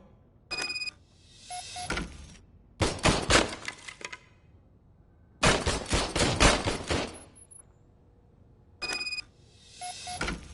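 An old service gun firing in RoboCop: Rogue City, in several separate bursts of rapid shots with ringing mechanical tones between them and quiet gaps in between.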